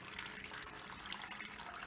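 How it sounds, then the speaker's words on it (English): Water pours steadily into an MRE drink pouch with electrolyte powder, a continuous close, faint splashing fill with no talk. "And we shall pour in our water."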